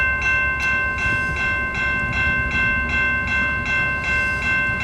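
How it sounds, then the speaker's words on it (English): An EXO commuter train on the Candiac line passes Montreal West station, a steady loud rumble with rhythmic wheel clatter and sustained high tonal whine, no voices. "I saw the train coming."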